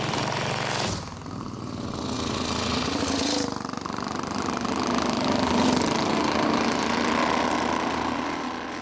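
A vintage Condor D50 racing motorcycle engine on a mountain pass race course, a loud, steady, raspy drone that holds close throughout with a brief dip near the start, no voices.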